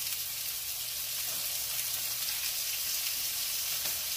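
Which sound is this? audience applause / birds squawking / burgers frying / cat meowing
burgers frying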